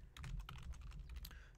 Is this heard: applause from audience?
no